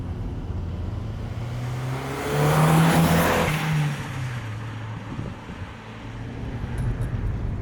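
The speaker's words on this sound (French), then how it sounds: "On entend bien la dump valve." An Audi TT MK1 accelerates hard, its engine roar swelling to a peak before a breathy dump valve release hisses out, then the sound settles into steady road and wind rush.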